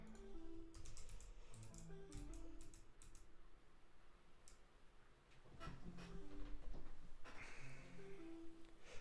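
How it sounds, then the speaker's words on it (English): Typing on a keyboard with very clicky switches, rapid bursts of sharp, close clicks in uneven runs, pausing briefly before resuming, with a faint background hum. "I also got really clicky switches. I wonder if you can hear them."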